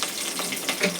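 Mustard seeds, cumin and dried red chilies sizzle and crackle in a little hot oil, tempering for a ridge gourd peel chutney. The sound is a steady, close, bright frying hiss with small pops throughout one brief second.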